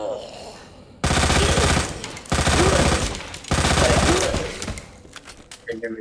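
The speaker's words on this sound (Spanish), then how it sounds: "le metimos bastantes disparos" Rapid gunfire in Resident Evil 2 Remake, loud bursts of automatic shots in two long volleys separated by a short pause, followed by a few scattered clicks and clatters as it dies down.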